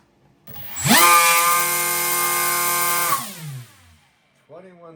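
An RC motor spins a 6-inch, 3-bladed, 3D-printed propeller near 21,000 RPM on a thrust test stand, rising to a loud, harsh whine that holds for about two seconds, then winds down sharply, with a brief tail after.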